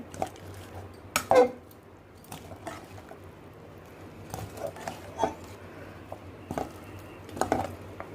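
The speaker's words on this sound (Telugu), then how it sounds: "పసుపు వేసుకొని ఇట్లా కలుపుకుంటున్నాను" A spoon scrapes and knocks against a pan while turmeric is stirred into sago khichdi, giving scattered soft clinks and wet squishing at an uneven pace.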